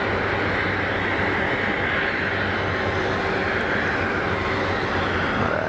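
Jet engines at Geneva Airport spool up on the runway for takeoff, making a steady, broad roar heard from a distance that holds without pause throughout.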